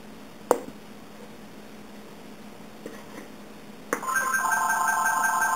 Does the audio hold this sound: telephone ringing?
yes